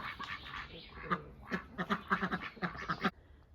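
Ducks on a farm quacking in a lively cluster of nasal calls, several birds overlapping in bursts, moderately close and fairly quiet.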